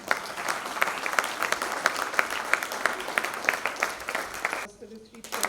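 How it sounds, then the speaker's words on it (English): Audience applause fills a literary festival hall after a multilingual poetry reading by three poets, steady dense clapping that cuts off abruptly near the end before a voice begins. "Thank you so much for the applause."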